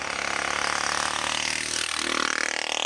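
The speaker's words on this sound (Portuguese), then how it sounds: "Puta, moto escrota, cara. Odeio moto." A motorcycle engine drones loudly and close, its pitch shifting as it passes by, with a steady buzzing growl throughout.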